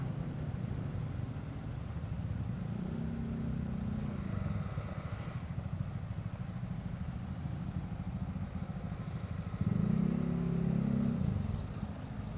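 Large motor scooter engine of the Yamaha XMAX or Honda Forza type, a steady low rumble passing close by and swelling louder near the end, with traffic noise around it.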